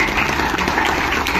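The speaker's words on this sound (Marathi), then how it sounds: "जोरदार टाळ्या" An audience at a school golden jubilee celebration, Dr Datta Samant English School in Devbag, breaks into loud, dense, continuous applause that fills the whole short stretch.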